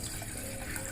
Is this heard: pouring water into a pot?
yes